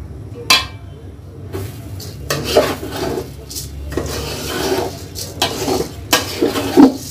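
Rice and fried potatoes being stir-fried in a pot for biryani, with repeated scraping and metallic clinks from a spoon against the pot that come in short, uneven bursts, close by.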